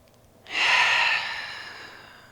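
A deep, slow breath taken during a trauma-informed yoga session, a breathy airy inhale-exhale that swells quickly, holds, then gradually fades, close and alone.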